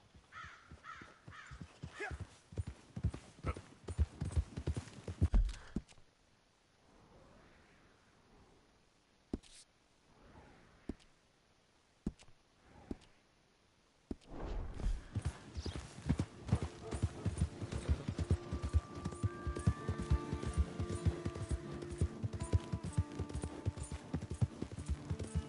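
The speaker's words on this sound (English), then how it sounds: "Here's your horse back, friend." Horse hooves clip-clop in Red Dead Redemption 2, first as a brisk rhythmic gait, then fading to near quiet, then returning as dense steady hoofbeats with crows cawing and a soft musical bed.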